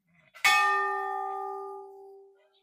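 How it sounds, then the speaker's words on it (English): A large temple bell in Sitapur, Uttar Pradesh, is struck once with a sharp metallic clang. Its bright, ringing tone hangs on and slowly fades over about two seconds, heard alone and close. "You're supposed to ring the bell and stand under it"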